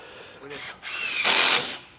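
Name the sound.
decking machine inserting screws at an angle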